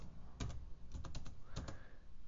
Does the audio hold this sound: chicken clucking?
no